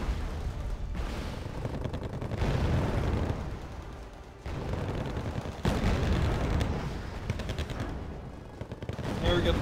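Bombing runs and explosions from the real-time strategy game Wargame Red Dragon, with dense, continuous gunfire and booming blasts that swell in loud bursts throughout, overlapping one another.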